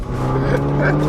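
A Fiat 500 Abarth engine drones loud and close during a launch, a steady low mechanical hum heard briefly.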